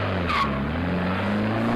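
A game car drives with a loud steady engine drone, and a squeal of tires briefly rises over it near the start, heard close with no talking.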